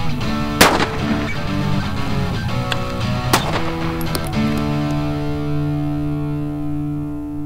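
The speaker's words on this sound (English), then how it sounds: "we're going to examine the effects of a 1-ounce 12-gauge slug on a 5-pound bag of flour" A 1-ounce 12-gauge shotgun slug fired into a 5-pound bag of flour: one sharp, loud blast early on, with a second report and smaller impacts after it, all over a steady ringing background.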